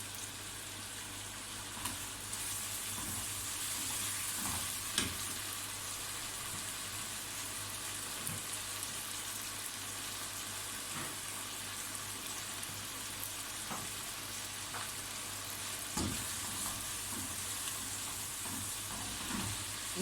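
Fried onions go into a hot pan for chicken rara and hiss in a continuous, close sizzle, with faint stirring clicks and scrapes scattered through.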